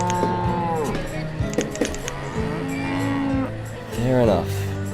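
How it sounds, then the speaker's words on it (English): Cows in the video game Banished moo repeatedly, long rising and falling lows from several animals overlapping, one louder call near the end, over a low ambient background. "So let's listen to the mooing"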